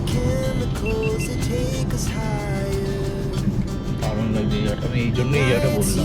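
A car rolls along a road through pine forest in Netarhat, its engine and tyre noise a steady close drone, with music playing over the top throughout.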